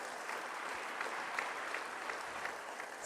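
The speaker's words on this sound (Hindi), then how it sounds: "तालियों के प्रणाम से आप माननीय प्रधानमंत्री जी का अभिवादन करें।" An audience at an education summit in Varanasi gives the Indian Prime Minister steady, sustained applause, a dense wash of clapping from a large crowd that holds at an even level throughout.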